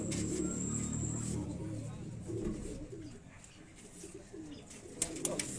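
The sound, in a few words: pigeons cooing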